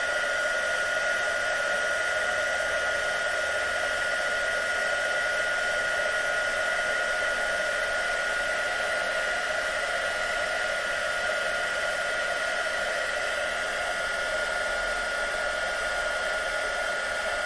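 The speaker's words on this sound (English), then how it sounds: "So I need to heat my heat tool. Hold that down and blast." A crafting heat tool blows hot air for embossing in one steady, continuous whoosh. It holds the same even loudness throughout, with no voices over it.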